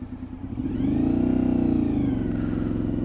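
A car engine accelerates hard in first gear on the way to a top speed of about 46, its harmonic drone sweeping upward and staying loud and close throughout, with no talk over it.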